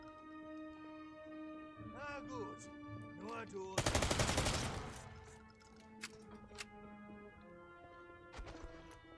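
Gunfire in Sniper Elite: Resistance, a loud burst of rapid automatic shots in the middle, preceded and followed by game sounds and a tonal hum, with a few sharp single shots near the end.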